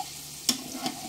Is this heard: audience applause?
no